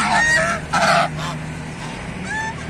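Several geese honking in loud, overlapping calls, with a burst of louder honks partway through and softer ones trailing off, fairly close.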